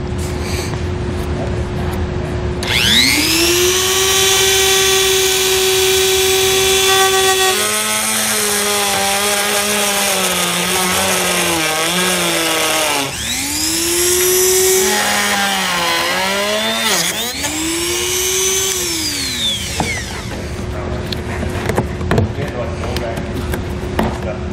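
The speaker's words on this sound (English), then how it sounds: "I'm just going to use a rotary tool with a cutting blade." A rotary tool with a cutting blade whines at high pitch as it cuts into a vehicle panel for a trailer hitch install, its pitch dipping and rising as the blade loads and frees up over a sustained, loud stretch.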